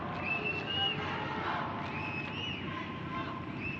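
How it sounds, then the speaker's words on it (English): A crowd at a Costa Rica versus Mexico women's under-17 qualifying football match cheers and shouts at a distance, a busy, steady roar with whistle-like calls rising above it. "Crowd now really into it."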